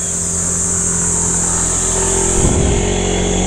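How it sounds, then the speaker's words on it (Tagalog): A motorcycle labours up a steep uphill road near Timberland Heights in San Mateo, Rizal, its engine droning loudly and steadily, with a rougher low surge swelling about two-thirds of the way through. "Sa motor pala, hirap na hirap na."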